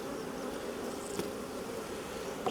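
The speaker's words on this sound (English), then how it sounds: "They're just being normal bees." Honeybees from a queenless colony buzz in a dense, steady drone close by, holding an even level throughout with no voices.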